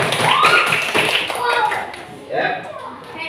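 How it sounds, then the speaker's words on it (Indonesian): A short burst of clapping from a small group in a first-grade classroom, mixed with children's chatter and voices, fading as talking takes over. "tepuk tangan lagi terakhir buat Adit."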